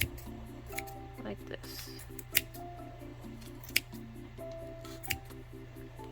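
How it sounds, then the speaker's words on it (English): Scissors snip through the yarn loops of a crocheted pom-pom with a few soft, sparse cuts, under a quiet steady hum, while a person talks briefly. "Just cut it all the way, all those little loops you want to cut"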